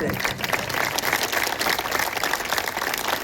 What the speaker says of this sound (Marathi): मला वाटते टाळ्या आपण वाजवताय.